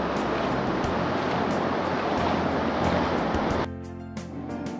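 Sea waves roll in with the incoming tide on Tajpur beach on the Bay of Bengal, a continuous loud wash of surf that eases slightly near the end.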